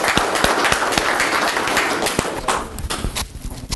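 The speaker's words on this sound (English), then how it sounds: "Let's have a good round of applause for Mr." An audience at a fishing-related seminar applauds a speaker with dense, close clapping that is full at first and then thins into scattered individual claps.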